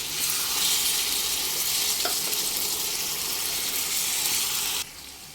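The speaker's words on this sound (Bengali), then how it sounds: "দেব অল্প একটু গরম জল" Hot water goes into a sizzling pan of chana dal cooked with young jackfruit. A steady, loud hiss of frying fills the clip, with a brief splash partway through, then the sizzle drops abruptly at the end.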